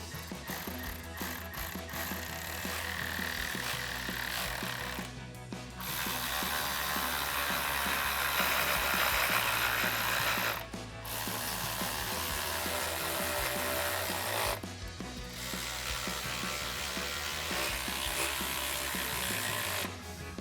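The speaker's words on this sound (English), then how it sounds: "To tighten those 4 bolts down, we're going to be using a 5mm Allen socket, a socket extension, and a ratchet." A ratchet with a 5mm Allen socket and extension tightens the four bolts on a Granatelli 95mm throttle body on a RAM 1500, giving long runs of rapid close clicking broken by short pauses.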